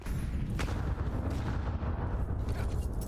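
Grenade explosions in an online competitive shooter match, heavy booming blasts and gunfire-like bursts packed densely and loud, continuous with no talk.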